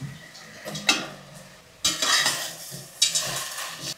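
Mushrooms go into a pan of masala and rock salt for biryani and get stirred, with loud bursts of sizzling and metal spoon scraping against the pan in three distinct surges.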